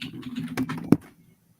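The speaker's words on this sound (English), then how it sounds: "I'm typing the names of these these clays in here for you guys." Quick, close clatter of fingers typing on a computer keyboard in a home studio, a short burst of keystrokes ending in one sharper tap, then quiet.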